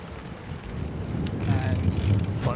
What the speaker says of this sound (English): It's been breezy today, headwind.